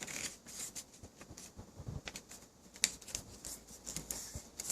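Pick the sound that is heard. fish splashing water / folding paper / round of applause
folding paper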